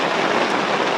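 Heavy rain pours steadily during a storm at a riverside fishing spot, a dense, continuous hiss that stays loud and close for the whole second with no voices.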